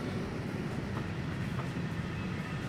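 A steady, low rumble of a train ride in a video game, with soft rhythmic clatter of railcar wheels, faint and continuous throughout with no talking.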